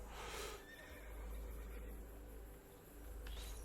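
A horse whinnies in the video game Assassin's Creed 2 over a steady background of chirping insects, with a faint low hum throughout.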